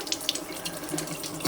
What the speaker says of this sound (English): now I'm gonna fill this up with water until it covers the eggs